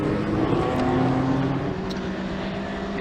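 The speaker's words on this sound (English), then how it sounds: "listen to them roar as well as the BMW goes past us" Vintage touring cars, a BMW among them, roar past on the Brands Hatch circuit during a demonstration run, a loud continuous engine drone that fades slightly as they pass.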